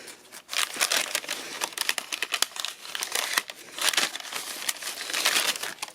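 Paper inside an opened envelope from a craft kit crinkles and rustles continuously at close range, with dense irregular crackles and no talking.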